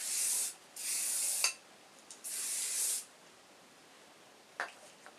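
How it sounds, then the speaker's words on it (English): Several short bursts of hairspray hiss from an aerosol can aimed at styled prom hair. There are three or four close sprays, each about half a second to a second long, with quiet pauses and faint handling sounds between them. "you're just going to take some hairspray and finally hairspray everything together"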